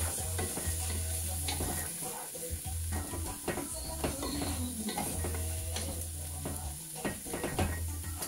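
Food sizzling in a pan during a Kenyan home-cooking session, stirred with repeated scraping and clinking of a utensil against the pan over a continuous hiss, close by, with a low background hum.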